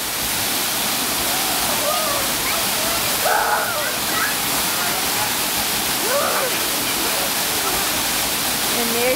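Steady, loud roar of a waterfall in St. Lucia pours continuously through the whole stretch, with excited voices and shouts of people playing in the water rising over it.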